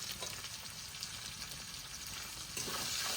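Potatoes fry in a pan with salt, turmeric and slit green chilli, giving a steady, quiet sizzle with faint stirring throughout, low in level and with no voices.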